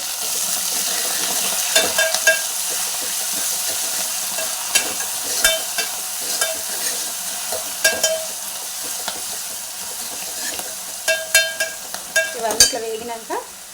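Green chillies, spinach and curry leaves sizzling in oil in a pan, a constant frying hiss broken by scattered stirring scrapes and spatula clinks, with a busier clatter near the end.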